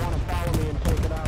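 Enemy bombing run in the video game Hell Let Loose, a dense roar of explosions and gunfire filling a short, loud burst, with voices talking over it.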